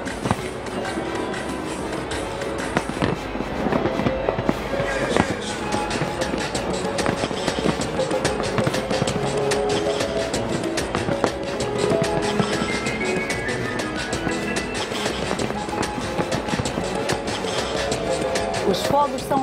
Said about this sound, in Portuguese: São ao todo 34 mil bombas de fogos de artifício no Rio de Janeiro.